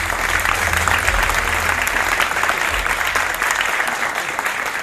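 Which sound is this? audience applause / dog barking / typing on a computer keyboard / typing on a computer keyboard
audience applause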